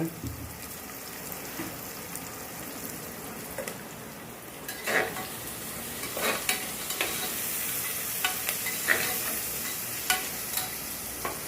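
Onions frying in a pan for a Tirunelveli-style chicken curry: a steady close sizzle with intermittent scraping stirs of a spoon against the pan, growing busier partway through.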